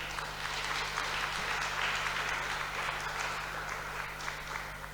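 A church congregation applauding God, a sustained wash of many hands clapping at a steady level across the whole stretch, heard over a low steady hum.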